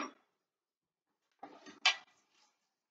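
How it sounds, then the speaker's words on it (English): Gentle clinks and scrapes of utensils against a bowl as shallots are folded into a lobster Cobb salad, a short tap followed by a quiet pause and then a few soft mixing sounds. "And you're gonna gently mix them together."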